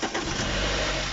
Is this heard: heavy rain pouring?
no